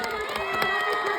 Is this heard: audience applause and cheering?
yes